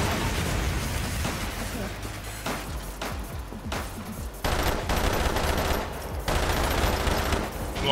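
Rapid bursts of gunfire and blasts from a grenade in the zombie shooter game Umbrella Corps, dense and loud, with short pauses between volleys.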